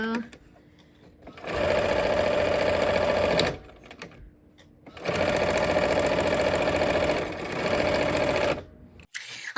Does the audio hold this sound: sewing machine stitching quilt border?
yes